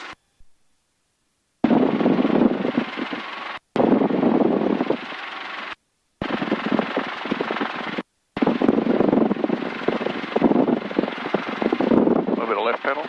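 Hughes 269 training helicopter in flight, heard from inside as a loud, steady rotor and engine drone with wind buffeting, cut by several silent gaps and overlapping radio talk.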